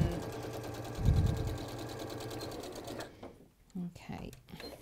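A sewing machine runs steadily, stitching around the edges of a bag with a fast, even mechanical whir. It then stops, leaving quieter handling noises and a voice.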